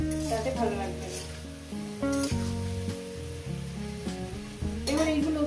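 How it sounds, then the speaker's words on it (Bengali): Potatoes fry in a pan with a light crackling sizzle that sits beneath prominent background music, fairly quiet and continuous. "এইভাবে আলুটাকে লাল লাল করে একটু ভেজে নেবেন।"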